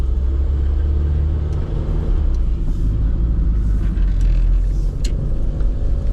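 Classic Mini Cooper RSP engine on choke, a steady loud low rumble with uneven spluttering surges and dips throughout, heard from inside the car on a road test.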